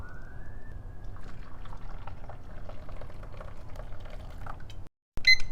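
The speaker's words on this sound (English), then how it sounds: "And I pour it out over my little tea pet," Hot water is poured over tea leaves and a tea pet, a soft steady trickle and splash heard close up before a brief silence and a final splash.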